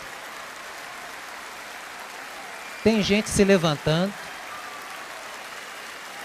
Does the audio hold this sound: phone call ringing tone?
no